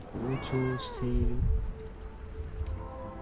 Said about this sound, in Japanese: なんかにゃんこの声聞こえん。